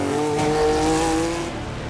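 A race car engine roars loudly and steadily, with harmonic engine tones holding and shifting slightly, at a field of Shelby Cobra and Porsche 906 racing machines.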